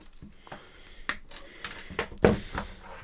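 Sharp snips of cutters trimming a zip tie on a drone frame, several crisp clicks spaced out with a louder cut near the end, close and fairly quiet.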